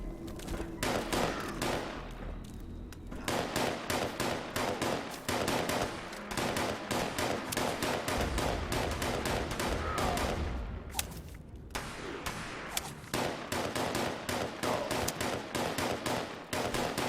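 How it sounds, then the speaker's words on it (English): Laser rifles firing in Fallout 76, rapid dense volleys of sharp shots repeating almost continuously, loud and close, with a few brief pauses. "So many laser rifles."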